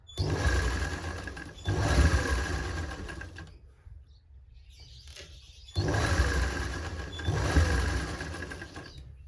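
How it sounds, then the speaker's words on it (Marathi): A sewing machine runs in two loud, close bursts of rapid whirring as it sews small stitches in fabric, with a quieter pause of faint handling between them. "आपल्याला लहान शिलाई करून घ्यायची आहे"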